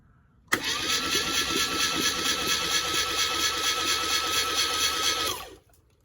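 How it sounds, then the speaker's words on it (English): A Classic Mini Cooper RSP engine cranks over to flush its SU fuel pump. The starter whirs loudly and steadily for about five seconds after an abrupt start, then cuts off without catching. "I'll just fire the engine over just to flush the SU pump"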